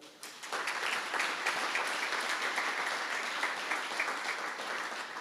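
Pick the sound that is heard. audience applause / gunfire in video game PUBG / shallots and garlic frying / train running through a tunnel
audience applause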